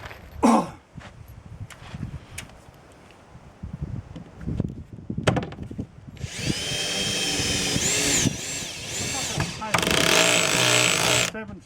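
A power drill drives screws into a storm-reinforced structure in several whirring bursts of rising and falling pitch. Knocks and handling clatter, along with nearby voices, come between the drill bursts.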